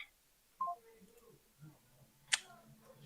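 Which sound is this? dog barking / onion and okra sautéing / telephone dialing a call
telephone dialing a call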